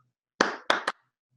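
Three sharp hand claps in a quick rhythmic pattern: two spaced beats, then a faster third. They are loud and close, with silence before and after, setting up a joke.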